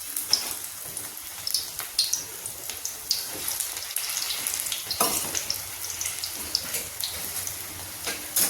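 Oil heating and sizzling in a kadhai on a home stove, a soft crackling and spitting with scattered pops throughout, close and fairly quiet.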